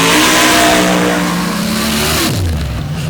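An AMC-powered rear-engine rail dragster with a Barry Allen-built engine roars on its first competitive dirt drag pass, loud and sustained, its pitch climbing under acceleration before dropping sharply near the end as it lifts off.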